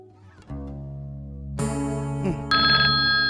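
A phone ringtone plays a loud electronic melody of sustained tones, starting soft and rising in brightness and volume over a few seconds, with no voices.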